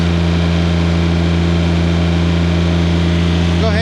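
John Deere 332 lawn tractor engine running steadily close by, a loud, even drone with a strong low hum that holds constant with no clear rise in revs.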